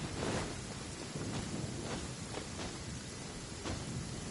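Thunder rumbles and rain patters in the video game Genshin Impact, with several sharp lightning cracks standing out over a steady, fairly quiet wash of storm noise.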